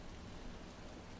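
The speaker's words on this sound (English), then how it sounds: "Khajiit is gonna sit here out of the rain and have a think." Rain falls steadily in Skyrim as a soft, even hiss of broadband noise, faint and unbroken, with no talking.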